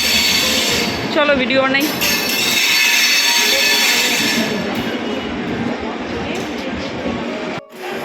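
A train pulls into a station with a loud, sustained rumble and rolling clatter, a short high wheel squeal early on, and people talking nearby over the noise.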